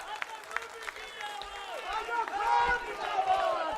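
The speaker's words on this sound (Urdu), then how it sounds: "آپ صدر محترم کا استقبال تالیوں کے کچھ اس انداز سے کریں کہ یہ پنڈال تالیوں کی گونج سے گونج اٹھے" An audience at the Kanpur Mushaira welcomes Azam Khan with applause. The clapping builds from scattered claps into fuller applause, with shouts and cheering voices over it.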